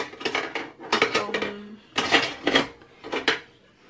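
Ingredients for leche flan being whisked in a bowl, a utensil clattering against the sides in quick bursts of scraping and clinking with short pauses, close and fairly loud with no talk.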